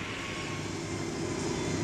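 Steady drone of an aircraft taxiing at Schiphol airport in the 1950s–1970s, a continuous engine hum at moderate level with no breaks or talk.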